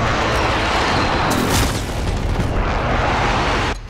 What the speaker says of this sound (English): Precision airstrike incoming.